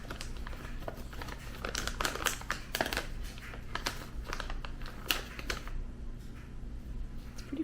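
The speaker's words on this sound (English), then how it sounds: "I'm just gonna tear this open." A package of Beyond Meat vegan jerky being torn open, with crinkling plastic and bursts of crackling and ripping close up over several seconds, no talk.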